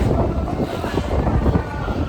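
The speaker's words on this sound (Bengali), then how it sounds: "যা হাওয়া না এখানে উড়িয়ে নিয়ে যাচ্ছে।" Strong wind gusts buffet the microphone outdoors on a trip from Rameswaram to Kanyakumari, a loud, rough, continuous rumble with a person talking faintly beneath it.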